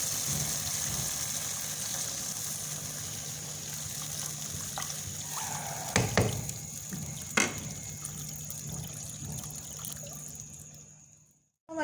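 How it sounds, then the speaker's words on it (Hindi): Water poured into half a kilo of rice in a cooking pot for chana pulao, a continuous close trickling pour for several seconds with a couple of sharp clanks, then tailing off to quiet. "और अब हम शामिल करने लगे पानी।"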